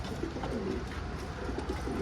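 Pigeons coo softly and repeatedly, low and steady, beneath a constant background hiss with no voices.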